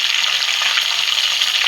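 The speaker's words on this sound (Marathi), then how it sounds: "ही डाळ, कढीपत्ता, लसूण असा चांगला फ्राय करून घ्यायचा" Dal, curry leaves and garlic fry in a pan, a loud, steady sizzle with faint stirring.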